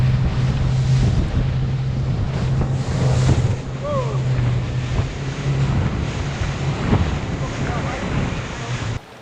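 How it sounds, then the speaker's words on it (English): A rigid inflatable boat's outboard engine runs hard at full throttle off the Dover coast in strong wind, a steady low drone beneath gusting wind buffeting the microphone and rushing water, close and loud throughout. "The sudden increase of wind means Stuart on the rib has to open the throttle to keep up."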